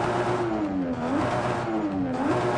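Car fitted with a sport exhaust in the Forza Horizon 5 racing game, revving twice in a row with rising and falling engine tone over a continuous loud drone, no talk.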